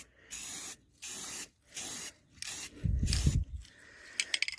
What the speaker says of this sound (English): We're going to apply the paint.